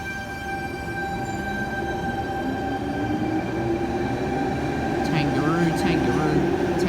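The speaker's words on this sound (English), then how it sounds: "Tangara departing platform number 1 for a Schofield service." A Sydney Trains Tangara set departs platform 1 on a Schofield service at Epping, a steady rumble with rising motor whine and faint squeals under a bright tonal hum.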